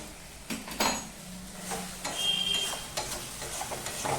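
Spice paste for a Bengali fish curry is stirred and fried in a pan, with a low sizzle under repeated scraping and clinks of a metal spoon against the pan.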